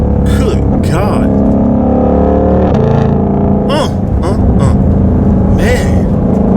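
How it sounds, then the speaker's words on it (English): A 2020 Ford Shelby GT500 engine blips and roars through repeated downshifts, loud and close with rising and falling revs over steady drivetrain rumble, while a person talks over it. "The downshifts though."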